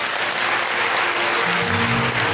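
A worship crowd at an evening praise gathering claps strongly and steadily for Jesus Christ, dense sustained applause filling the room, with a low sustained musical tone rising beneath it midway.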